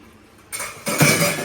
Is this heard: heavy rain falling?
no